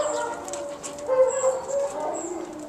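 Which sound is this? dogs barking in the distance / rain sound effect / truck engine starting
dogs barking in the distance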